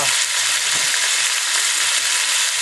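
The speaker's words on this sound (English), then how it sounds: "We'll go ahead and let those fry for a few minutes." Beer-marinated oysters fry in a deep fryer, a loud, steady, close hiss and crackle of bubbling oil with no other sounds.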